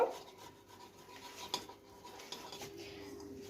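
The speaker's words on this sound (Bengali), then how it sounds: "আলু গ্রেট করে নিয়েছি" Potatoes are grated by hand in a kitchen for aloo paratha. A faint, close rasping scrape repeats at an irregular pace, with light metallic clinks of utensils in between.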